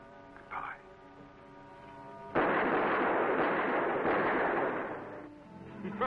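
Gunfire in a monster movie, The New Invisible Man, erupts as a loud, sustained roar of shots lasting about three seconds, set between quieter stretches with music or a voice in the background.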